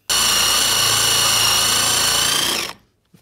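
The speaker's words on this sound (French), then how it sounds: "Je commence par un trou pour placer la rondelle." A power drill with a Forstner bit bores a hole in wood for a washer, a loud, steady high whine held for about two and a half seconds before spinning down and stopping.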